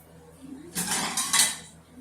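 Dishes and cutlery clatter briefly up close, a couple of bright clinks of a plate and utensils against a quiet kitchen background.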